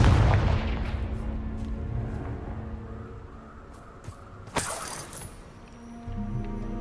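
A Confringo spell in a video game goes off as a deep booming blast with rumbling low end, followed by a sharp crackling burst and a lingering echoing rumble, with no talking during it.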